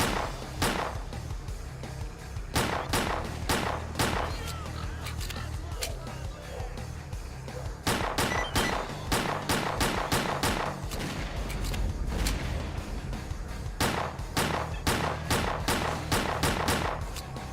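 Rapid bursts of automatic gunfire in S.T.A.L.K.E.R.: Clear Sky, loud close shots fired in quick strings with brief pauses, emptying a magazine, with no talking over it.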